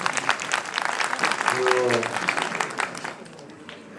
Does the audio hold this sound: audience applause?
yes